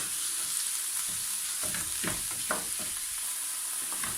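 Minced beef cooks gently in a pan, seasoned with Guérande salt, giving a steady soft sizzle with occasional stirring scrapes and taps throughout.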